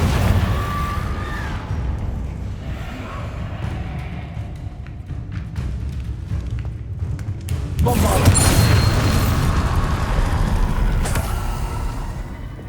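The Confringo fire spell in the PS5 game Hogwarts Legacy erupts in a booming blast over a rumbling game soundscape, swelling into a sustained roar partway through.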